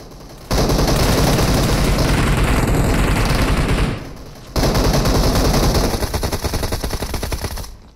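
Loud, close bursts of automatic gunfire rattle in a video game match, with a brief lull before another long stream of rapid shots that tapers off.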